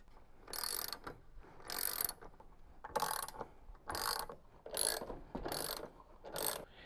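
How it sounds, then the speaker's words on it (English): A 13mm socket ratchet clicks in seven quick bursts of ratcheting, near and fairly loud with short pauses between, while removing the bolts and washers that hold the upper concrete counterweight on a Beko washing machine. "remove the three bolts that hold the upper counterweight securely in position with the 13mm socket set"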